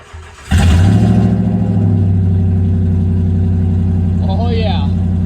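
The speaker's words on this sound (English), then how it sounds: "So I'm gonna warm this thing up. And you guys get a little cold start." A 4.7L Magnum truck engine with the muffler cut off cranks and fires on a cold start, then settles into a loud, raw, steady idle close by, with faint chirps near the end.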